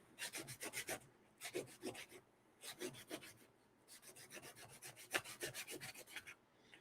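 Sandpaper worked by hand over a lightsaber part, built from a chassis, rasps in rapid back-and-forth strokes grouped into several bursts with short pauses, close and quiet with no talking.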